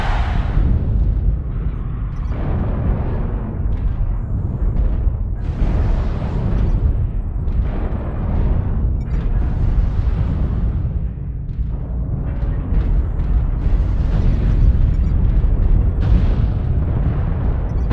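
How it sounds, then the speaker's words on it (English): Video game airstrike explosions roll on as a continuous series of deep, heavy booms and rumbling blasts, loud and dense, with no voices over them. "Airstrike online. Target destroyed."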